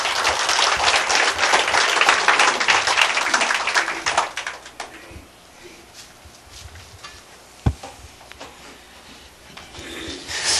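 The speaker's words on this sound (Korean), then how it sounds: "박수 부탁드립니다" An audience at a church gathering applauds, a dense burst of clapping in the first few seconds that fades into quieter room noise with a single knock near the end.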